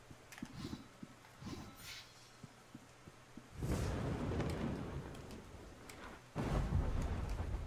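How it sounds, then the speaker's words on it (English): Rain and rolling thunder in a fantasy video game: soft rain patter with faint thumping at first, then two loud, long rumbles of thunder swelling close and heavy. "All this rain."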